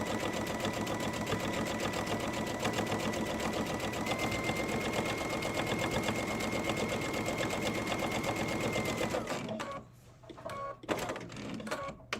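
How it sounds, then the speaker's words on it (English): A sewing machine runs steadily, stitching a serpentine stitch through a thick multi-layered hem, with a continuous close mechanical whir that stops near the end, followed by a few short bursts. "You can kind of hear it clunk over those layers at the hem"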